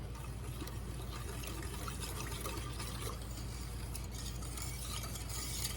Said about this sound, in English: Let me stir that up a little bit.